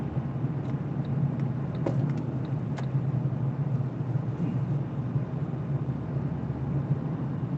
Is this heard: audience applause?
no